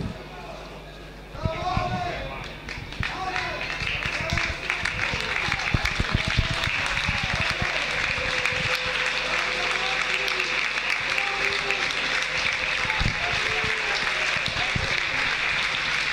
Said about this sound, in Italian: Gli applausi da parte di tutto lo stadio per la Lupa Roma